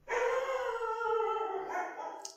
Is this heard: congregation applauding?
no